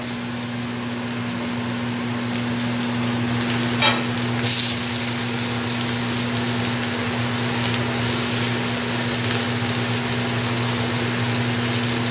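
Organic tuna sears in a hot pan just after being turned, giving a steady, close sizzle throughout, with a brief sharper crackle near the start over a constant low mechanical hum.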